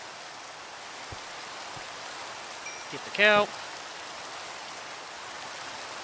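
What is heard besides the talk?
rain in a video game, Minecraft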